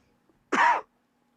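One short, rough cough close to the microphone, on its own in an otherwise quiet moment.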